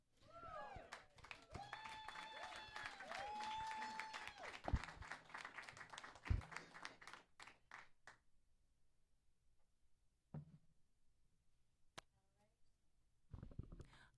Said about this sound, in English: another round of applause for Amy